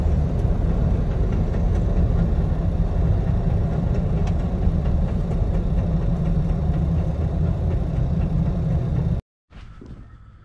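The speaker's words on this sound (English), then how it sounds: "insert the clip of what the Wrangler sounded like before I tore it apart and before everything happened" Jeep Wrangler JKU on the road before an axle teardown, a steady loud low rumble of engine and drivetrain with road noise that runs continuously, then cuts out abruptly near the end before a short quieter burst.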